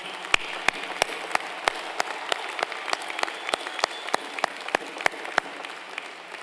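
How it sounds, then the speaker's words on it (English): Audience applause fills a university commencement ceremony at UNC-Chapel Hill, honoring veteran graduates, with steady dense clapping and a few sharp individual claps standing out near the front, lasting throughout without talk. "Please join me in a round of applause."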